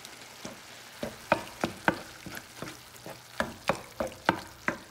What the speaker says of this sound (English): I'm gonna go right in there with the old crushed tomatoes. Give it a nice little stir.